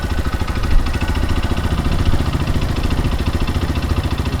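A 2023 CFMOTO Papio XO 125 motorcycle's small engine runs nearby with a steady, low pulsing throb and no voices over it.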